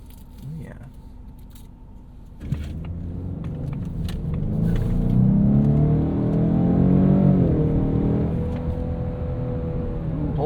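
A 2024 Ford Mustang EcoBoost with a 10-speed automatic pulls away, its engine rumbling low then swelling into a sustained acceleration as the gear is held, heard from inside the cabin.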